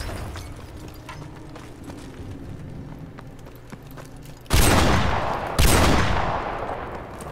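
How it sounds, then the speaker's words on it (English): Grenade explosions in the shooter game Modern Warfare Remastered, two loud booming blasts in quick succession after a stretch of quieter scattered gunfire and ambient noise. "But I started chucking grenades back at him now."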